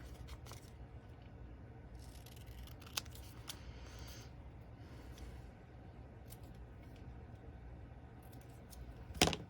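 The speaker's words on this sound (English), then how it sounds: "So I'm going to just cut that one down." Scissors cut paper while a bullet journal is being set up, with quiet, sparse snips over a soft room hush and a brief louder rustle at the end.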